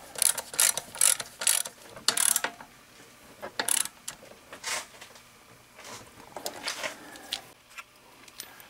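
Socket ratchet clicking in short bursts while loosening bolts on a Lincoln Continental alternator, close up, with rapid pawl clicks separated by brief pauses.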